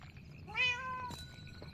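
A cat meows once with a rising then falling tone, clear and fairly close, inside a cozy mangrove swamp video game, followed by a short click and quiet background.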